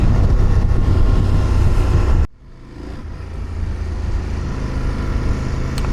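A CFMOTO 1000 MTX motorcycle roars along loudly with heavy wind rush, then the sound suddenly drops to a lower, steadier engine drone that gradually builds again while riding continues.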